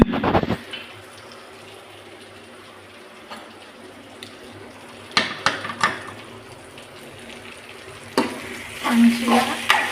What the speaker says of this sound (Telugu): ఆయిల్లోనే బాగా కాసేపు ఫ్రై చేసుకోవాలి.